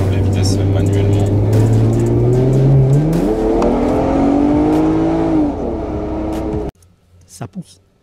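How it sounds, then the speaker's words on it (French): A Toyota Mark II Blit wagon engine accelerates hard from inside the car, its loud drone climbing in pitch, dipping at a manual gear shift and rising again before cutting to quiet; someone speaks over it. "On va accélérer plus 85 km/h, c'est bien."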